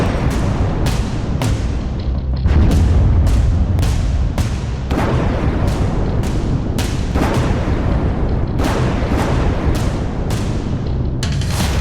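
Explosions from Israeli bombardment of Hezbollah positions in Lebanon: a loud, continuous series of heavy booming blasts arriving in rapid succession, with dense rumbling between the sharp hits.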